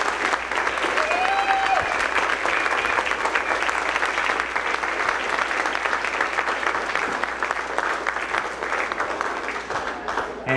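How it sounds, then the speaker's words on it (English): Sustained loud applause from a school audience after a third-grade spring instrumental concert, an even wash of many hands clapping with faint crowd murmur and a few whoops beneath. "So can we give them all one more big round of applause"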